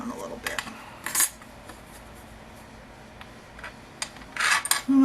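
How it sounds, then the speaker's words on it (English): Small crisp taps and scrapes from cutting and breaking off a tiny piece of polymer-clay-style miniature breakfast sausage for a dollhouse, a few brief close clicks near the start and end with quiet pauses between. "And now I'm going to cut this, break off a little piece."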